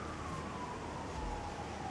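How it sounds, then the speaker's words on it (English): Emergency vehicle sirens wailing outside, a continuous tone slowly sliding in pitch over dense, steady background noise, heard through a room without any talking. "It's a lot of sirens."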